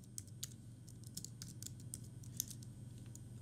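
Light clicking keystrokes on a computer keyboard in short irregular bursts, faint and close, with no talking.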